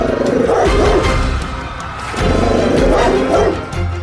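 Loud dog barking used as the sound of a feared mythical three-headed dog, with deep, repeated bow-wow barks in two clusters and a brief lull between them.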